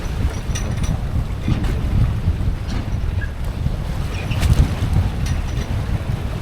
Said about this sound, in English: Water's splashing up.